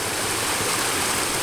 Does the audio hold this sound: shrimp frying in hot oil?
no